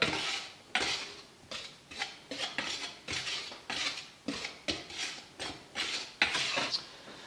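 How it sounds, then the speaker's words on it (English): Ingredients for a zucchini coconut lime bread batter, including baking soda and salt, being whisked together in a bowl, a rhythmic run of quick metallic scraping strokes repeating about once a second, close and steady without speech. "And then we are going to whisk that all together."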